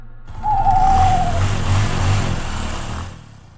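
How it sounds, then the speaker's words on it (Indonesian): An old motorcycle engine starts up and runs with a steady low rumble close by, a brief whining tone sliding downward at the start as it catches. "lalu segera menyalakan mesin motor tuaku"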